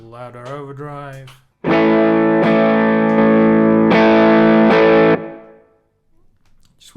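Electric guitar through an overdrive pedal with a big level boost, a couple of loud, driven chords sustaining for about three seconds, with brief talk before and after.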